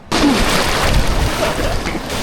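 Big ocean waves surge and wash in a continuous broadband roar around a small boat, close and loud, with gusty wind buffeting the microphone.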